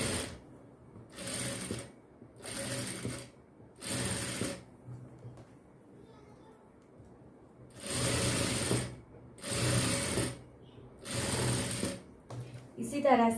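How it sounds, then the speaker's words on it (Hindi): A sewing machine stitches piping onto a blouse neckline in six distinct bursts. Each burst is a loud, close mechanical clatter lasting about a second, and the bursts are separated by near-silent pauses. "यहाँ से सिलाई कर लीजिए।"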